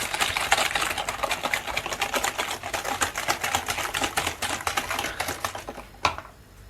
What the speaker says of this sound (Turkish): Güzelce çırpıyoruz.